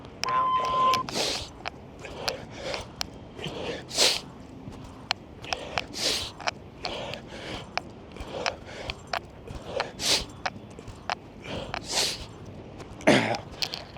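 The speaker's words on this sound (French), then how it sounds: "je sais que c'est pas agréable de m'entendre respirer ou renifler en même temps" Heavy breathing and sniffling from a man doing a long set of push-ups, repeated sharp breaths and sniffs in an irregular rhythm, close and fairly loud with a few faint beeps.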